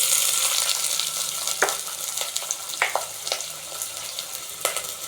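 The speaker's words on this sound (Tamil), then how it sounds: "நறுக்கி வச்ச வெங்காயம் ஒரு 2 வெங்காயம் போடுறேன்." Chopped onions sizzle and crackle in hot oil, a steady frying hiss broken by scattered pops and stirring clinks.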